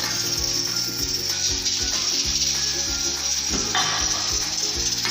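Ghee sizzles in a cooking pot for daal chawal, a steady bright frying hiss running throughout, with soft clinks and a rhythmic pulsing backdrop underneath.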